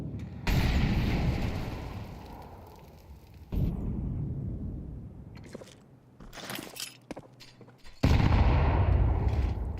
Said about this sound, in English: Well-timed grenades.